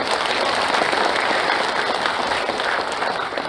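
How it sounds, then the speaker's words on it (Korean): Steady, dense applause from an audience welcoming families of victims at the founding convention of a bereaved families' association, sustained and even throughout. "큰 박수로 맞이하겠습니다."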